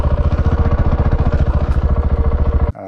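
KTM 690 Enduro single-cylinder motorcycle engine with an aluminium bash plate runs close and loud, a rapid even thumping pulse that stops abruptly at the end.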